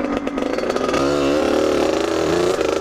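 A motorcycle that was hard to start, fitted with a new clutch lever and perch, runs after being push started, its engine note steady and close with a brief revving rise near the start.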